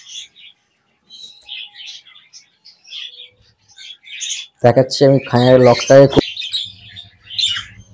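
Budgie birds, ready for sale at a bird breeder's setup, chirp and squawk in a steady scatter of short, bright calls throughout, while someone speaks for a few seconds midway over them.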